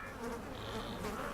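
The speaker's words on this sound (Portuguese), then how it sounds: "Mas as moscas a deixam incomodada." Flies buzz in a steady, faint drone, a close continuous whine with no voices over it.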